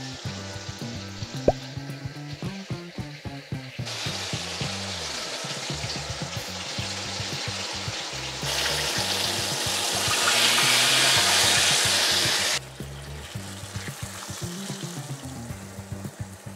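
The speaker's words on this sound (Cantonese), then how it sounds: "其實你可以攞翻出嚟再翻炸佢，咁佢咧就會脆啲" Chicken pieces being re-fried in oil for lemon chicken, a continuous hissing sizzle that swells louder and denser for a few seconds before easing back, with occasional utensil knocks and no talk.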